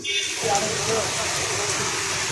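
Heavy monsoon-season rain pours down in a dense, steady roar of broadband hiss that holds constant and loud from start to finish, with no voices.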